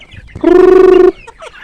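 A single drawn-out free-range village chicken call, loud and close, a sustained nasal squawk lasting under a second with faint rustling before and after.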